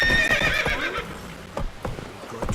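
Geralt's horse Roach neighing in The Witcher 3: Wild Hunt, a loud close whinny opening the moment, followed by scattered hoof clops on the ground.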